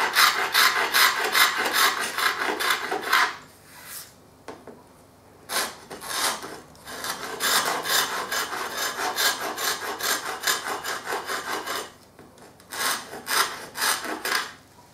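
Old paint is scraped off wood in repeated rasping strokes, loud and close, with short pauses between bursts and no talk.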